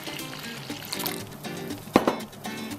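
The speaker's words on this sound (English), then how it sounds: "I'm going to use cold water, pour it into the well" Cold water is poured from close by into a well of flour for a bake, giving a soft running trickle with a brief louder splash near the end.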